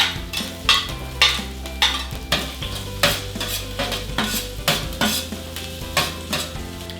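Minced garlic frying in coconut oil in a Saladmaster pan, a steady sizzle broken by repeated scraping strokes of a utensil stirring against the metal, close and clear with no talk.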